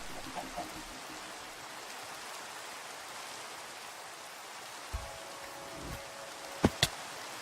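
Rain in the video game Minecraft patters as a steady, faint hiss, with a few sharp clicks and a short tonal blip near the end breaking through the continuous wash.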